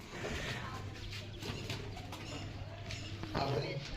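Pigeons coo softly and steadily in a loft, with low murmuring calls running throughout under faint background noise.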